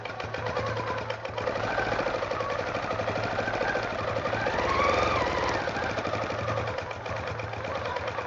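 A sewing machine stitches steadily with a free-motion hopping foot, its needle hammering in a fast, even mechanical rhythm up close, loud and constant, with a slight swell midway and no voices.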